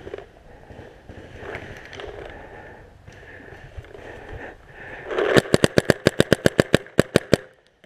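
Rapid burst of about a dozen sharp paintball gun shots fired in quick, even succession during outdoor paintball battlezone gameplay, loud and close, following a stretch of muffled background noise.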